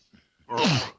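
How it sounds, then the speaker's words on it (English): A single person sneezes once, a short sharp burst after a couple of faint quick intakes of breath, close and loud, with no other sound. "Excuse me, I sneezed."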